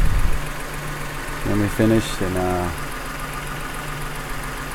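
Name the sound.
2006 Toyota Sienna engine running after timing belt job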